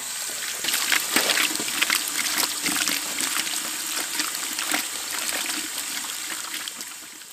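Running water rinses a whole rack of pork ribs, a steady close splashing trickle with irregular gushes as the meat is washed, continuing alone without talk.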